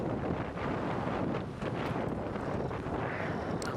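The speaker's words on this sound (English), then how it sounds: "you can probably hear in my microphone, but when it is so windy" Strong wind buffets a microphone on an early-morning safari drive, a continuous loud rumbling roar with gusty swells and no pauses throughout.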